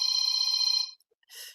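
A mobile phone ringing indoors with a bright electronic trill, loud and close, one long burst then a short pause before it starts again.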